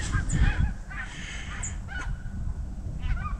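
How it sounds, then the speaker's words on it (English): A flock of geese honks overhead in a rural pasture in midwinter, several distant calls scattered across a few seconds over faint outdoor ambience. "I guess they're geese."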